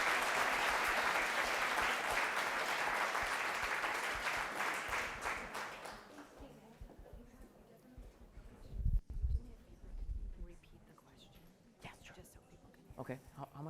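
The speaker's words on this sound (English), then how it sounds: "So now you can clap." An audience at a conference talk claps warmly for several seconds and then fades out, leaving a quieter room with scattered shuffling, a few bumps and some murmured talk.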